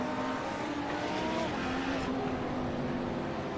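GT3 race cars accelerating at Interlagos, a steady, loud engine drone with rising whine of revving motors and a touch of tyre noise, holding constant throughout.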